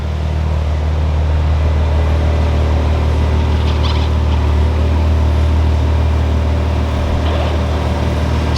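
A 2020 Toyota Supra with a straight-pipe exhaust rumbles steadily and loudly at close range as it pulls out at low speed, a constant deep drone with no voices.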